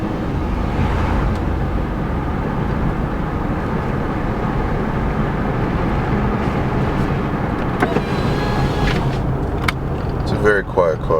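A 2004 Nissan Maxima driving, with a steady, fairly quiet road and engine drone inside the cabin throughout and a few faint clicks and knocks near the end.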